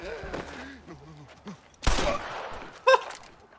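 Gunfire in the Red Dead Redemption video game: a loud burst of shots lands near the middle, followed by a second sharp report, with a voice talking and a few short game noises before it.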